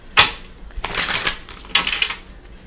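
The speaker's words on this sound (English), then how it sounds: "Get a good shuffle on these cards." Tarot cards are shuffled close by in short bursts of crisp riffling and clicking, with brief pauses between them and no talking.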